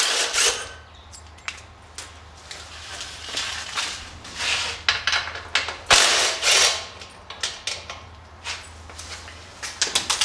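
A ratchet clicks and turns while 12 mm bolts come off a 1973 Honda CB100 motorcycle, in irregular bursts of close mechanical ratcheting with scrapes and clanks, with no talking.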